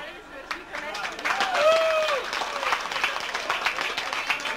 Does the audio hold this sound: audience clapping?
yes